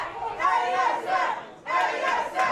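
A wrestling crowd at an intergender show chants and cheers for Antonio San Francisco in a match against Raychell Rose, rhythmic bursts of massed voices rising and falling, with a short lull before the chant resumes.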